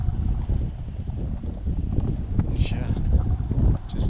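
Strong headwind buffets cyclists riding through the desert between Abri and Atbara in Sudan, a steady low roar of wind noise on the microphone with a voice partly heard under it.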